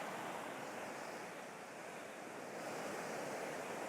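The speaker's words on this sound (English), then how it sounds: "I don't intend to go beyond these little waves much" Small ocean waves wash onto a beach at Magnetic Island, a continuous broad hiss of surf with light wind noise over the microphone, steady and close, no voices.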